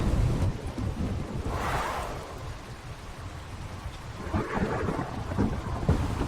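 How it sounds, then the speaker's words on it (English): Steady heavy rain hisses throughout with a low rolling rumble of thunder swelling underneath in the video game Ark on the Crystal Isles map, no voices present. "Where it's apparently raining."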